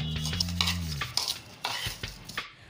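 Coconut powder being mixed with sugar, cardamom and ghee by hand, heard as a run of close scraping and tapping stir strokes in a bowl, irregular and moderately loud, after a brief low hum fades out.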